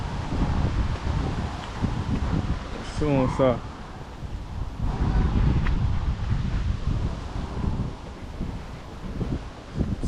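Wind buffets a microphone outdoors on a fishing outing, a steady low rumble with gusty swells throughout, while someone speaks briefly over it.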